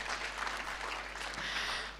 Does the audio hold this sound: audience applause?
yes